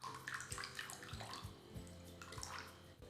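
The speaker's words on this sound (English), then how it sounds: "now I'll make a vinaigrette with some extra virgin olive oil and a splash of apple cider vinegar" Extra virgin olive oil and apple cider vinegar pour into a bowl for a vinaigrette, a soft continuous liquid trickle with faint splashing, quiet and close.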